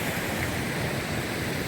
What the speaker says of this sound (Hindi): अब बरसात हो रही है तो पानी दाब के चल रहा है इस समय।